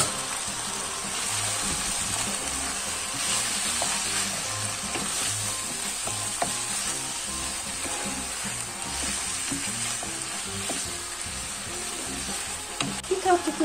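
Hot water poured into a frying pan of sizzling food, giving a steady, dense crackle and hiss that holds evenly throughout, with faint stirring scrapes and no talking.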